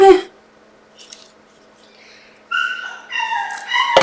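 Dogs whimper and yip indoors, with high whining cries and shuffling movement after a quiet stretch, fairly close.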